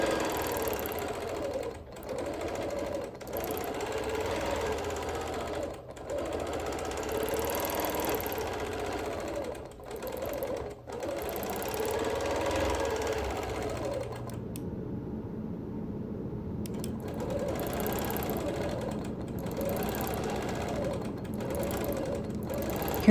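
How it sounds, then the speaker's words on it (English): A sewing machine quilts small feathers into a quilt, a continuous mechanical chatter with a steady stitch rhythm and recurring swells in speed, broken by brief pauses and one short quieter stretch midway. "Here I'm quilting some of the smaller feathers."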